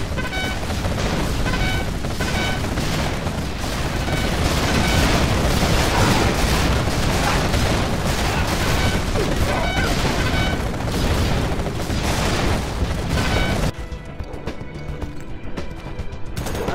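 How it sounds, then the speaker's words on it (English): Particle cannon strikes in the real-time strategy game Generals Zero Hour, a dense barrage of loud booming explosions and crashes rolling continuously before cutting abruptly to quieter background rumble. "General, our enemy is using their particle cannon."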